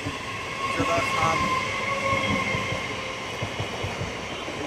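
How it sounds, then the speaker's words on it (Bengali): A train rumbles past close by, a loud continuous roar of wagons with rhythmic wheel clatter and faint squeal, while a person speaks a word over it. "তোমরা দেখতেই পাচ্ছ বিভৎস ট্রেন যাচ্ছে"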